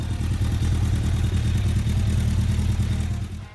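A Suzuki oil-cooled 1157cc inline-four motorcycle engine runs with a steady, dense mechanical drone at close range, holding constant before tapering off at the very end.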